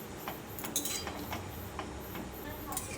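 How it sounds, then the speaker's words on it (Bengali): Pre-made pasta is stirred in a cooking pot, giving scattered light clinks and ticks of a utensil against the pot over a low, steady background. "এবার তৈরি করে রাখা পাস্তাগুলো এর মধ্যে দিয়ে দিচ্ছি তারপর একবার নেড়ে চেড়ে দিচ্ছি"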